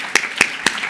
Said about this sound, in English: we can start with a round of applause for Sasha